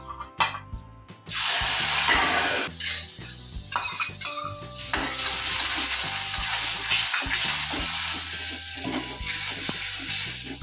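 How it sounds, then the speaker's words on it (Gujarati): Onion drops into hot oil seasoned with cumin and asafoetida for a cauliflower curry: a short quiet lead-in, then a sudden loud hiss that settles into a sustained sizzle with occasional metal clinks and spatula scrapes. "હવે પહેલા તો આપણે આ ડુંગળી લીધી છે એને નાખી દઈશું।"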